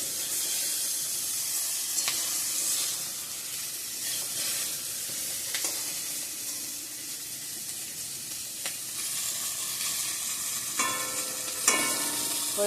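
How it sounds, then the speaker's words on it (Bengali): Brinjal (eggplant) slices sizzling steadily in a pan of hot oil on a home kitchen stove, a continuous close frying hiss with a few brief clinks and stirring sounds, no voices. "বেগুন ভাজাটাও করে নিচ্ছি।"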